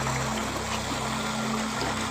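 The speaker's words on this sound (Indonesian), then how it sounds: "Ada air terjun" Waterfall heard as a constant, fairly faint rushing wash of water with a low steady hum underneath, brief and unbroken.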